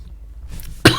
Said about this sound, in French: je tousse énormément